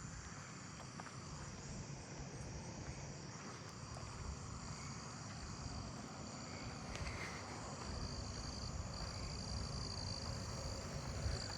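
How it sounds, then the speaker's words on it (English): Southeastern field crickets chirp at night in a suburban neighbourhood, a faint steady insect trill under a broad background hum with a distant aircraft drone, and no voices. "Southeastern field cricket."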